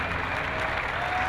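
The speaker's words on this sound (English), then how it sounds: "Give them a big hand from the grandstands for the red shirts" Grandstand crowd at a Formula Student Germany endurance event clapping for the track volunteers, a steady wash of applause throughout.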